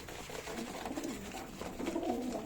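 Tumbler pigeons coo in a loft, a run of soft, low, rolling calls repeating and overlapping from close by against a steady murmur of background noise.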